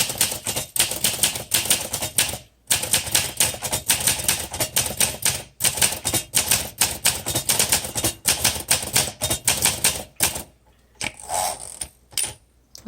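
Keys clatter on a 1963 Olympia SM5 manual typewriter set with a cursive typeface. Rapid, close strikes run in irregular rhythm, with short pauses and a few mechanical clunks near the end.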